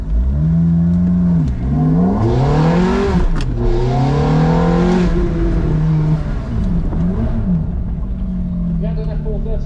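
A Ferrari F430 with its 4.3 litre V8 revs loudly at a supercar rev-off event, rising and falling in swooping pitch sweeps throughout, with crowd noise and talk mixed in.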